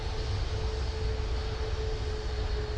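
Boeing 747-400 jet engines in the FSX flight simulator game, a loud steady roar with a constant whining tone running throughout, heard alone without speech.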